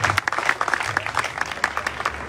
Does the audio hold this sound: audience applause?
yes